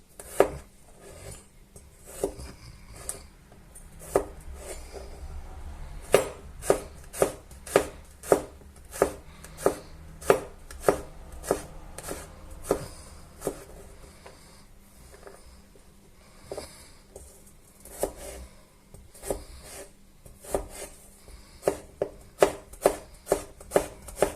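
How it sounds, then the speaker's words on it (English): A knife finely chops a large garlic clove on a cutting board, giving a long run of sharp, close knocks in a fairly regular rhythm, with no talking. "I'm just going to use one garlic clove because this one is quite big, and I'm going to finely chop it"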